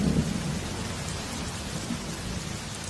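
Heavy rain pours steadily in a movie scene, a loud continuous wash of falling water, while a deep rumble of thunder rolls underneath at the start and again briefly later, with no voices.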